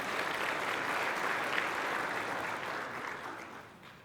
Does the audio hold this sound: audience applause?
yes